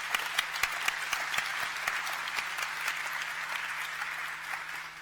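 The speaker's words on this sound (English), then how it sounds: "Let's give them a warm round of applause," A conference audience at a plenary opening ceremony gives the panelists a warm round of applause, sustained hall-wide clapping with a few sharper nearby claps standing out early, steady and moderately loud, with a low hum underneath.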